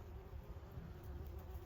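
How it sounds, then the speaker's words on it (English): Bees buzz steadily around an underground nest in a garden beside banana trees and cannas, a continuous low drone close by with no voices. "These bees seem to love my garden."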